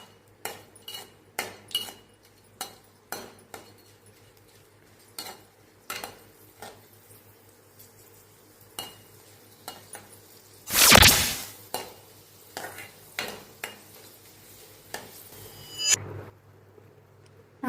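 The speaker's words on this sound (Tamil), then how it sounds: "இப்போ கொஞ்சம் கொஞ்சமாக போட்டு பொரிச்சு எடுத்துக்கலாம்" Dried cluster beans going into hot oil a few at a time, heard as a series of sharp clinks and taps from a spoon against the pan, with one brief loud burst of sizzling partway through.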